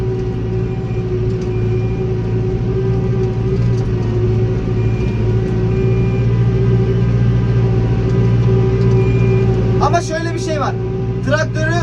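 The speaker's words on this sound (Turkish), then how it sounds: "Traktörü kasıyor arkadaşlar." A New Holland tractor engine drones loud and steady while plowing hard, difficult soil, a constant low laboring rumble from close by, with a brief burst of talk near the end.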